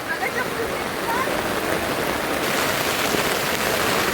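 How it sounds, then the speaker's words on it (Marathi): Heavy rain pours down steadily, a dense, even hiss of falling water that holds at constant loudness throughout. "लय जोरात जोरात पाऊस पडतय"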